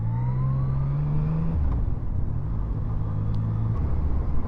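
Yamaha MT-09 motorcycle engine droning steadily while riding, with a loud continuous low rumble and a gear change partway through, close and alone with no talk.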